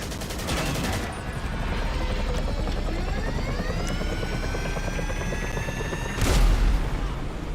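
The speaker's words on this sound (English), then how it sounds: "That chopper fly" A helicopter in GTA 5 Online thrums with a continuous rotor drone and a rising whine, while bursts of gunfire crackle at the start and end of the scene.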